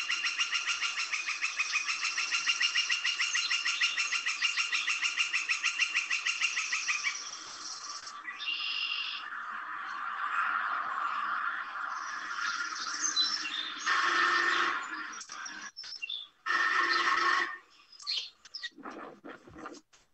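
Birds calling to attract mates, their signals boosted by amplifying metal structures, a dense run of chirps and tweets at steady level for several seconds, then breaking into uneven bursts and gaps toward the end.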